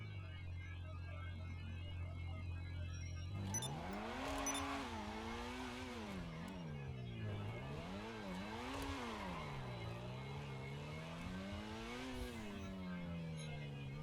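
Modified car test-driven in GTA 5 Online, the engine idling steadily and then revving up and down through repeated acceleration and gear shifts, with a faint voice in the background.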